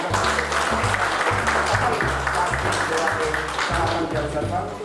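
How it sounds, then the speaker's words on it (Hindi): Loud, sustained applause from an audience at a college retirement function, steady throughout with music playing underneath. "तो एक बार जोरदार तालियां से"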